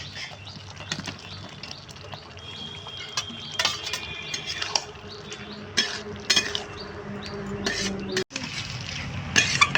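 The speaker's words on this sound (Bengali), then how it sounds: "একটু হালকা করে নেড়ে নিই" A spoon scrapes and clinks against a pan as ripe jackfruit fibre curry is stirred gently, giving irregular metallic taps and soft scraping over a faint background hum.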